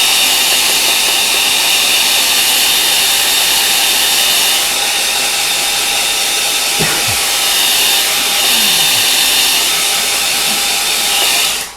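A hair dryer blows steadily over a watercolour painting of a lakeside scene at Stowe, a loud continuous broadband whoosh lasting throughout and cutting off at the end.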